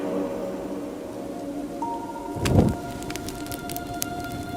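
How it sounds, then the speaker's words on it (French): Steady rain falls as a dense, continuous hiss, with a brief low rumble in the middle and light drips on top. "Ça faisait longtemps qu'elle n'était pas venue, la pluie."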